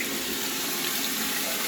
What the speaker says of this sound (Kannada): ಇದು ನಮ್ಮನೆ ಬೋರ್ವೆಲ್ ನೀರು.